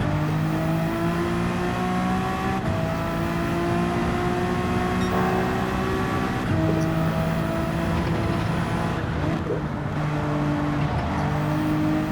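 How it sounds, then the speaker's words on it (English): Race car engine in Gran Turismo 7 pulling hard out of a corner, a loud, continuous high-pitched whine that climbs through the revs, with brief drops at gear shifts. "then I accelerated out of that corner, same as just now"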